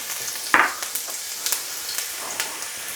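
Ginger and garlic frying in a wok for salt and chilli soft shell crab, a soft, steady sizzling hiss with one sharp clack from the pan early on and faint stirring taps.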